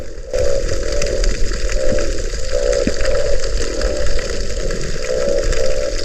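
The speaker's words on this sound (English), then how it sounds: "It's like a consistent croaking noise." Underwater during an ocean dive, a loud steady croaking drone repeats in pulses over constant rushing water and bubbling noise, close and continuous.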